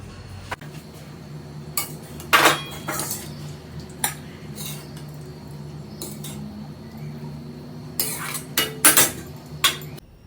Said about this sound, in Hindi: लोहे की कढ़ाई में बनाई है ना, तो इसे ट्रांसफ़र कर देते हैं किसी दूसरे बर्तन में